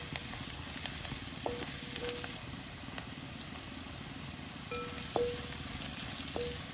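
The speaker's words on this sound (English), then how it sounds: "Make sure you're sauteing all this on very medium flame" Spices with turmeric and coriander powder sauté in a pan over a medium flame for a Kerala fish molee, giving a steady close sizzle with occasional light scraping clicks of stirring.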